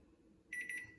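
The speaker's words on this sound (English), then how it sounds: "now our timer has gone off, which means our cookies are done" A kitchen timer alarm goes off with a quick run of bright, high electronic beeps that starts halfway through and rings alone over a quiet room, signalling cookies are done baking.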